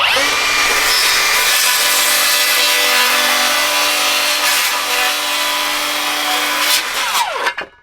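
A Bosch Profactor 18V rear-handle cordless circular saw cuts through wood in one loud, steady pass, its motor whining with a rough grinding rasp. The cut finishes near the end and the saw winds down. No one speaks.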